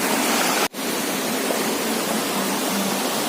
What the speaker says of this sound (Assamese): এইটো ৱাটাৰফল, জলপ্ৰপাত হয়